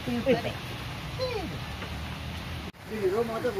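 Steady rain hisses in the background while someone talks over it, with a brief gap near the end before the downpour continues.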